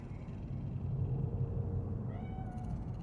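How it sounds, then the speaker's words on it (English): A cat meows in Cyberpunk 2077, a short faint mew rising over a steady low game ambience rumble near the end. "Fine looking feline."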